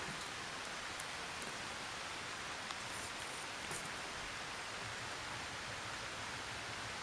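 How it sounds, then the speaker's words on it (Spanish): Soft, steady hiss of light rain falling in El Salvador, even and continuous with no voices, faint and diffuse. "solo es una pequeña lluvia."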